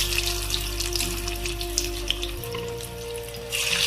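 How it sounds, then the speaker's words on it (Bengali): Potato and egg chops frying in hot oil, a steady close crackling hiss that runs throughout over a low hum and briefly brightens near the end. "এই যে আমার তেলটা গরম হয়ে গেছে, এবার আমি চপগুলো দিয়ে দেব।"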